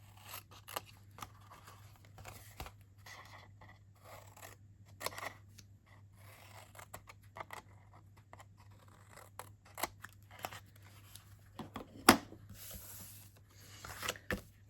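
Scissors make a quick miter cut through paper for a treat box, a few short soft snips and crisp clicks scattered over a faint steady hum, close and quiet.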